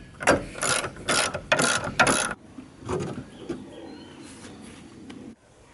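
A ratchet wrench loosens the bumper screws on a 1968 VW Beetle, giving several close bursts of rapid clicking. Quieter handling and shuffling noises follow, with no one talking.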